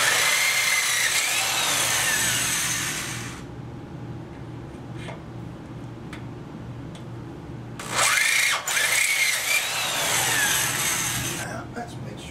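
A power drill bores out holes in a steel bracket on a Yamaha Radian motorcycle custom build, in two loud, shrill grinding bursts of a few seconds each, separated by a quieter stretch of low, steady hum.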